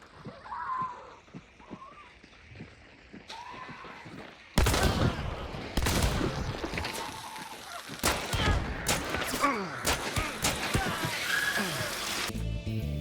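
Rapid gunfire from a Hunt: Showdown match, a Rival rifle and a New Army pistol, bursts loudly from the halfway point in sharp repeated shots and volleys over a quieter, rustling opening.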